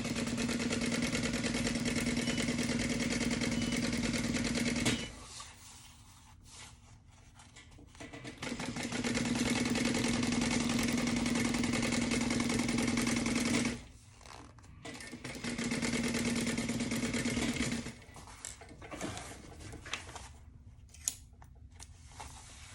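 A sewing machine stitches a convertible tote bag in long steady whirring runs, pausing twice and then ending with short stop-start bursts and small clicks.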